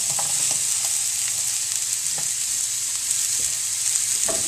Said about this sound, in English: we're going to let them saute by themselves for a little while